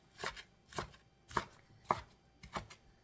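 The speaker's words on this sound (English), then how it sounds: "So just going to keep on chopping as small as I can." A knife chops an onion on a cutting board in six sharp, evenly spaced thuds about half a second apart, close and crisp with quiet gaps between strokes.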